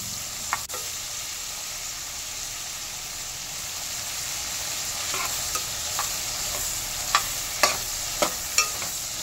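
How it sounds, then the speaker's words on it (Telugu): Tomatoes, green chilies and tamarind frying in a spoonful of oil in a pan, a steady close sizzle with scattered sharp clicks of a spoon scraping and stirring, more frequent toward the end. "ఇవి వేసి మనం బాండల్లో 1 స్పూన్ ఆఫ్ ఆయిల్ వేసి కొంచెం కలుపుకోవాలన్నమాట."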